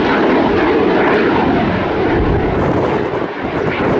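A fixed-wing aircraft flies at maximum angle of attack during an air show display at the Royal International Air Tattoo 2023, a loud, continuous roaring engine noise that swells and dips slightly, with no talking.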